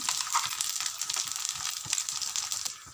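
A ground fried spice paste hits hot oil in a pan for a fish-head and radish ghonto, giving a steady, close, crackling sizzle with no talking.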